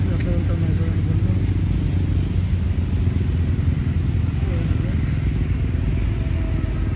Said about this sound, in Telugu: ఎట్లా వెళ్తున్నారు చూడండి బండ్లు.